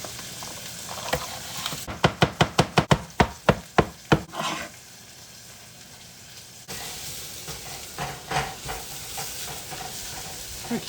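Celery being stirred in a hot frying pan, a run of sharp rhythmic scraping strokes followed by a steady sizzle with lighter stirring clatter.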